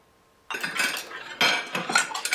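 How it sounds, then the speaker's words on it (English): Dishes and cutlery clattering and clinking as they are washed, in two close bursts of busy rattling separated by a short lull, with no talking. "I'll do the dishes."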